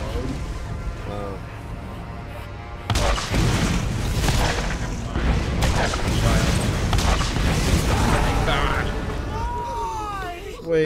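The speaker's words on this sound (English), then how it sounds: "this is about to explode" A video game explosion in Borderlands hits with a loud, sudden boom, then a sustained roaring rumble of crashes and bursts layered with busy game effects.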